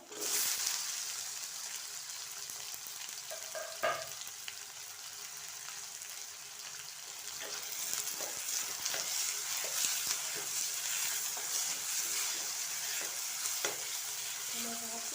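Tomatoes fry in a pan with a continuous soft sizzle, while a spoon stirs and scrapes through them in irregular strokes, fairly quiet and with no talking.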